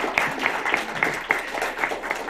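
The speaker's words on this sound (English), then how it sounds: "So you can have a round of applause for them" A small group claps briefly, with a few distinct claps marking a loose rhythm over a soft background.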